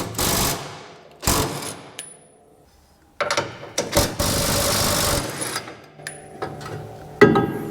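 Impact gun with a 7/8 inch socket working a cross member bolt on a classic Mustang, firing in several short loud bursts and one longer rattling run, separated by quiet gaps and metallic clinks; no talking.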